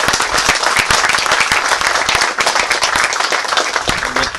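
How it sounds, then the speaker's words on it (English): A crowd claps steadily and loudly at an outdoor ribbon cutting ceremony for a flood control structure, dense applause from many hands sustained throughout with no talk over it. "Give him a hand clap."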